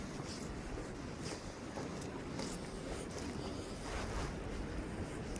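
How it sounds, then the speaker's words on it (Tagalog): Sea waves washing ashore along the Bournemouth seafront near the pier, a steady broadband surf wash with wind buffeting the microphone throughout and no voices. "Guys, yan yung dagat natin."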